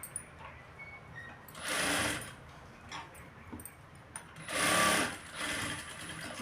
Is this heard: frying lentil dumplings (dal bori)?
no